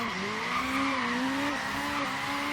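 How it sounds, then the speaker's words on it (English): A slammed, stanced Toyota AE86 in Forza Horizon 3 spins its tires: a steady, loud tire squeal with a strained, droning engine note that wavers slightly in pitch, heard up close without talk. "Definitely spins those tires nicely."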